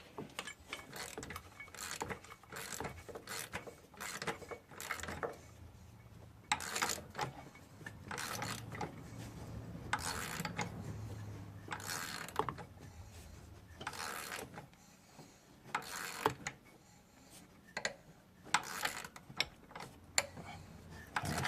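A hand ratchet loosens a pulley bolt on a Cadillac CTS 2.8L engine, its pawl clicking in repeated close, sharp bursts between pauses and short runs of rapid ticking.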